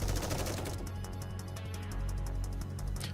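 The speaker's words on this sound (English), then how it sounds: "We hear the sounds of gunfire." Dense, continuous gunfire in the video game Goddess of Victory: NIKKE, with rapid bursts over a low rumbling backdrop, loud and steady throughout, with no one speaking.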